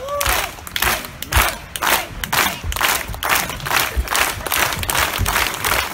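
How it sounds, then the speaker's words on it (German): At an outdoor summer festival in a palace park, an audience claps along in a steady, even beat. The rhythmic claps are loud and close, with crowd noise underneath. "Komm, Freunde, alle einen Takt."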